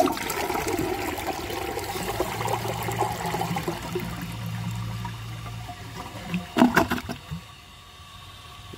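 A 1992 Universal-Rundle Atlas toilet flushing a washcloth, a close, short rushing gurgle of water that swirls and drains, ending in a few loud sucking gulps before trickling quiet.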